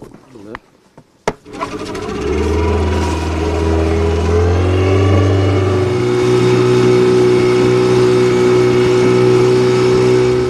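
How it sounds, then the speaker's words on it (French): A motorboat engine starts with a couple of sharp knocks, then settles into a loud, steady low drone close by as a boat ride gets underway. "On va aller faire un tour en bateau avec Shamseddine."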